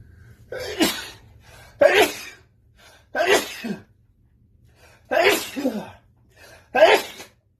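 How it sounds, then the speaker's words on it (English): Five sharp sneezes, one after another with short pauses between, loud and close over a low steady hum. "I'm gonna sneeze right now, sorry."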